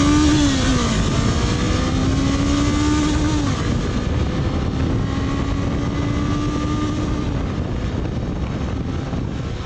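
Honda CB500X motorcycle engine running steadily and loud throughout, a dense continuous roar with a faint wavering drone riding on top, with no talk.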